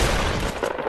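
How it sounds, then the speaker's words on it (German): Gunfire in the Fortnite video game: a dense, loud burst of rapid shots filling the whole short moment, with no talk over it. "Ich Hinten! höre auch Schüsse."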